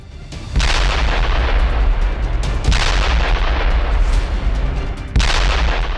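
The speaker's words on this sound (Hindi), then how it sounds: "यह धमाका रूस के FAB-3000 ग्लाइड बम ने किया है" Heavy booming blasts from Russian FAB-3000 glide bombs, three powerful explosions spaced a couple of seconds apart, each followed by a sustained roaring rumble.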